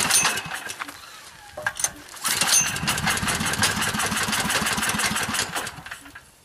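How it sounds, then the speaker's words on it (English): Wood gas powered generator engine fed from a wood stove, sputtering and catching briefly before settling into a loud, steady close-up running drone. "the gas production may not be at high enough rate to keep the engine running"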